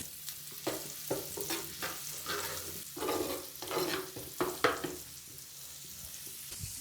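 Two spoons of garlic-ginger paste with bay leaf frying lightly in a pan for dhaba-style keema, bursts of crackling sizzle and repeated spatula scrapes in an uneven rhythm, close and fairly soft, no talking.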